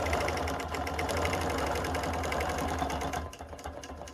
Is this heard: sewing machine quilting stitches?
yes